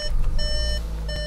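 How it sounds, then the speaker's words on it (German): Warning chimes from a Volkswagen T-Roc Cabrio with its door open, three evenly spaced electronic beeps repeating inside the car. "Jetzt geht das Gepiepe schon wieder los."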